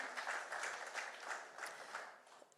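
Wedding guests give a round of applause, a dense burst of clapping that swells early and then gradually thins and fades.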